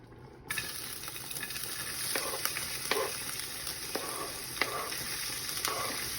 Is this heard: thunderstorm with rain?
no